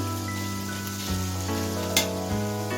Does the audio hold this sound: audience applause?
no